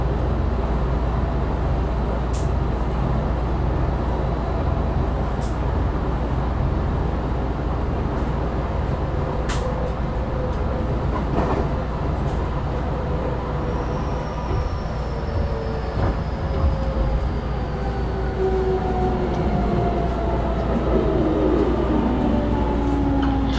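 A JR 223 series 0 train running on the Kansai Airport Rapid service, heard from on board as a steady loud rumble of wheels and motor with rising and falling whine, long continuous ride with no talk.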